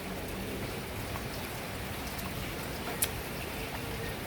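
Dawn rain keeps falling after an overnight storm, a constant patter of drops on surfaces with one sharper drip near the end, no voices present.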